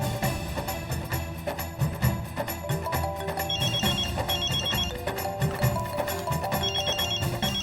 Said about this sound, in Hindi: बजने दीजिए, रिंग बजने दीजिए।